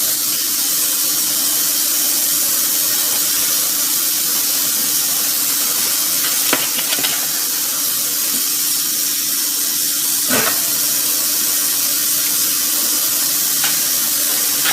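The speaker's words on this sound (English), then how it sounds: "now I'm going to wash some of my smoked neck bones" Smoked neck bones being washed in a kitchen sink under a steady stream of running tap water, a continuous hiss and splash with a few faint clinks.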